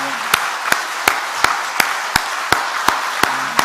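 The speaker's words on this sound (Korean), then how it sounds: "우리 격려의 박수 한번 드릴까요?" A church congregation at a Korean prayer service claps in steady unison, about ten even, evenly spaced claps at a brisk rhythm, moderately near.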